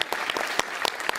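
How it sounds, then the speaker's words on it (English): A short burst of applause follows a burrito showdown, with dense, crisp clapping from a small nearby audience. "let's give a round of applause to"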